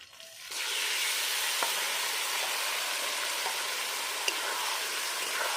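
Marinated duck meat goes into a pan of fried onions on an earthen clay stove and sets off a sudden, loud, steady sizzle that keeps going, with a few faint pops.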